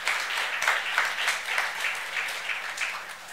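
A church youth service congregation breaks into applause, a close, dense burst of clapping that lasts a few seconds and tapers slightly at the end.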